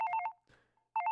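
A telephone rings in two bursts of a fast electronic trill separated by a short, nearly silent gap, clear and close with no talking.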